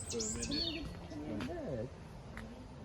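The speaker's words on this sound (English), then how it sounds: "Oh, it's a robin." A robin sings outdoors near a Christmas tree lot, its short high chirps and warbling phrases fairly close, mixed with people talking nearby.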